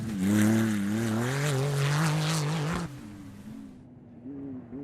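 A rally car driven by race leaders Shannon and Ian Wrench at the 2019 St George 399 roars past with a loud, rising and falling engine howl, then cuts away abruptly to a fainter, more distant drone.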